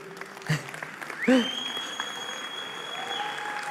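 Brief applause from a conference audience at a corporate white paper presentation, a short burst of clapping mixed with crowd noise and tonal sounds, fairly faint and under some talk.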